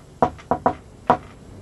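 Four sharp knocks on a hard surface during a paranormal investigation, close and distinct in an uneven rhythm, two spaced then two closer, with a quiet room between them.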